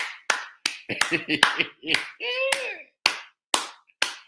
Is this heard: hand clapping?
yes